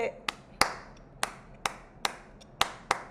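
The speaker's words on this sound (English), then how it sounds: "They are clapping the clave pattern" Sharp, separate hand claps beat out a syncopated clave rhythm, seven or so crisp hits spaced unevenly, fairly near and alone.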